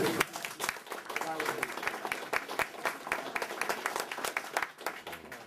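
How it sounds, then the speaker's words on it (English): An audience at a house dedication claps, crisp individual handclaps in a dense uneven patter that stays close and lively throughout, with a few murmured voices underneath. "you got to clap for that"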